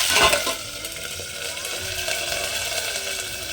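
Tempering for upma, with mustard seeds, chana dal and curry leaves frying in hot oil, a loud burst of crackling sizzle at the start that settles into a steady, close hiss.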